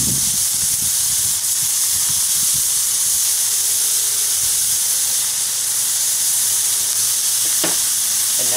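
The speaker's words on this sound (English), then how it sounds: "Take your burgers, toss them right on." Burgers sizzle on a hot grilling stone inside a Weber kettle BBQ, a steady loud hiss with faint crackles and a brief clatter near the end.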